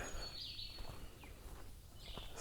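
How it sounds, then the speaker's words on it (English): Birds sing at dawn in the woods of Mt. Nebo State Park in Arkansas, a few faint scattered chirps and whistles, some near and some distant, over quiet morning air. "Birds are pretty loud right now."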